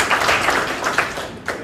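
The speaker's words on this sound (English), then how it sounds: "Can we hold the applause until all of them have been announced?" An audience claps during team player introductions, giving a short, moderately loud patter of applause with a few sharper individual claps.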